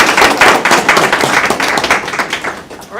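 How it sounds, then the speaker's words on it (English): An audience gives a round of applause at a school board meeting awards moment, brisk overlapping clapping close and fairly loud for a few seconds. "Another round of applause for Ms."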